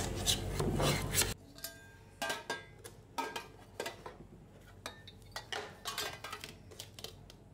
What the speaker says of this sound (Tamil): இப்போ இதை கேக்கை டிமோல்ட் பண்ணிக்கிறேன்.